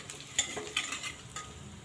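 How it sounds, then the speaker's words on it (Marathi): Chana dal and green chilies fry in salted oil over a low flame for Maharashtrian upma, a soft steady sizzle broken by a few sharp scrapes and clinks of stirring, close and quiet with no voices. "बारीक गॅसवरती फ्राय करून घ्यायचं"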